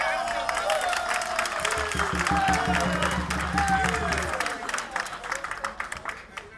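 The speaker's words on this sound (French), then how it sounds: "On applaudit encore." A large crowd at an official ceremony for the president of the republic applauds and cheers, a dense continuous roar of clapping that thins toward the end, with voices calling out over it.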